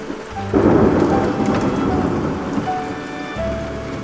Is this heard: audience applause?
no